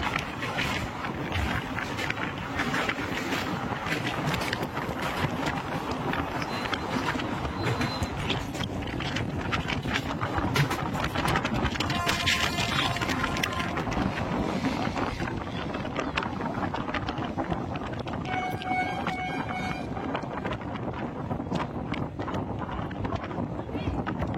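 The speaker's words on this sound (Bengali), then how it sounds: "আমরা কিন্তু এখন ক্রস করছি দামোদর নদী" A train rolls across bridge number 51 over the Damodar river with a steady, dense rumble and rattle throughout, with wind buffeting the microphone.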